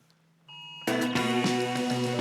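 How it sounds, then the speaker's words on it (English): A mobile phone sounds a flash flood emergency alert: a soft tone steps up, then a loud, harsh, pulsing alarm blares continuously nearby. "I think that's my phone."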